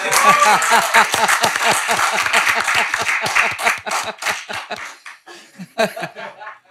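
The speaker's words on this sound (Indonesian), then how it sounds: "Tepuk tangan buat Jarwo Kuat." Studio audience applause for Jarwo Kuat on an Indonesian comedy talk show: a run of quick, rhythmic claps mixed with laughter that thins out and then breaks into a few scattered last bursts.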